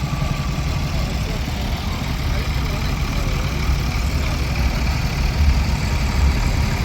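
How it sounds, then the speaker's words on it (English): A Case 500 diesel tractor, an American-built machine at a vintage rally, idles with a steady low rumbling chug, loud and continuous throughout without any talk. "again an American tractor. The case 500 diesel."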